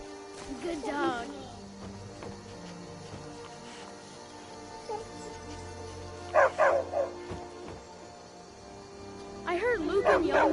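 Dog barks in a video game, sharp short bursts in two clusters over a quiet ambient background, with a game character speaking in between.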